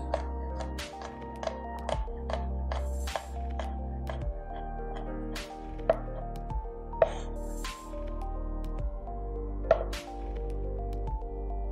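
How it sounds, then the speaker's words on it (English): A knife mincing jalapeno pepper on a cutting board in a kitchen, sharp chopping taps in a fast, fairly steady rhythm, up close and clear with no talking. "Beautiful jalapeno strips. And then we'll go for the mince."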